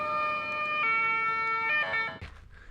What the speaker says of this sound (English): and then an ambulance just drove by.